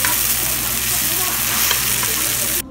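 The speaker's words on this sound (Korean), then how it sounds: "굽는 소리 좀 감상하실게요." Meat grills close up with a loud, continuous sizzle and spitting crackle. The sound stays even for a few seconds and then cuts off abruptly.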